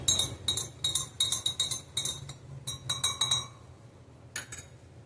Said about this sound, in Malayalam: ഒരു 1/4 ടീസ്പൂൺ ഉപ്പ് ഇതിൽ ചേർത്ത് കൊടുക്കാണ്. നന്നായിട്ട് മിക്സ് ചെയ്യാം.